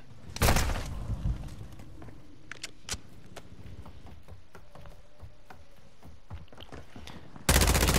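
Gunfire from an ISO 45 submachine gun in Call of Duty Modern Warfare, a loud burst near the start followed by scattered distant shots and sharp cracks, then another loud burst at the very end.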